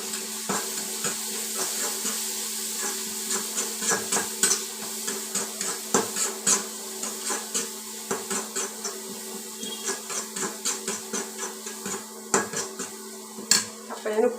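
A spoon scrapes and clinks quickly against a bowl as coconut chutney is mixed with chili powder and asafoetida. The stirring keeps a busy, uneven rhythm over a faint background hum.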